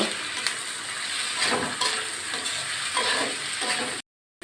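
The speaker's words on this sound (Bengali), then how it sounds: "আমি আলুটাকে একটু নাড়াচাড়া করে ভেজে নেব" Potato pieces seasoned with salt and turmeric fry in a pan and are stirred, giving a close, steady sizzle broken by repeated scraping stir strokes, with no talk and a short silent gap near the end.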